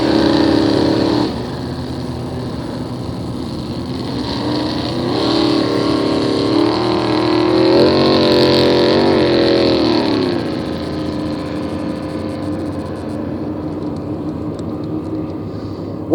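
A distant hydroplane racing boat engine drones steadily on the backstretch of a regatta heat, swelling and fading as it runs, a continuous high whine with no voices.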